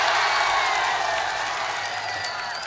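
Thin applause from the audience at a live poetry recital, a steady soft wash of claps and crowd murmur that slowly fades, with no voice over it.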